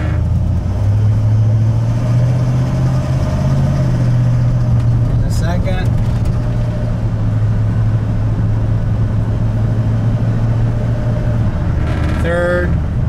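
Inside a moving car with an AOD automatic overdrive transmission, a steady engine drone fills the cabin; its pitch steps as the gearbox shifts, with the hum holding constant and loud throughout.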